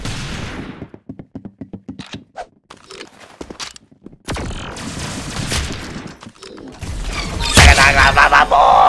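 Rapid gunfire from a shooting video game crackles in a quick series of sharp bursts, followed by denser, louder blasts and clattering action effects toward the end.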